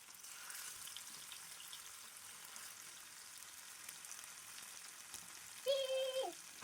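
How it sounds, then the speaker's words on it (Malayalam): Sardines frying in oil in a pan give a faint, steady hiss and crackle throughout, with a short tonal clink or squeak near the end. "പാൻ ചൂടായപ്പം എണ്ണ ഒഴിച്ചിട്ട് അതിലോട്ട് ഓരോരോ ചാളകളായിട്ട് പെരക്കി ഇടുന്നുണ്ട്"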